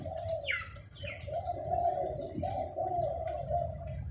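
A dove coos softly and repeatedly in a low, rolling tone, with faint chirps from other birds and a hiss of outdoor background noise.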